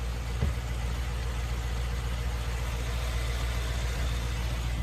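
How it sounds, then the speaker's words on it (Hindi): A 2024 Mercedes-AMG G63 Grand Edition with the Mercedes-Benz M177 petrol engine idles close by, a steady, deep, even hum with no change in pitch and no one speaking. "Mercedes Benz M177 petrol engine है ये।"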